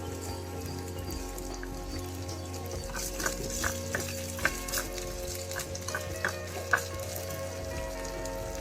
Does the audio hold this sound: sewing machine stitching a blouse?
no